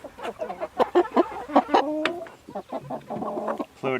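Pasture-raised Cornish cross chickens cluck and squawk up close in a busy run of short, overlapping calls with brief pauses, and no people talk.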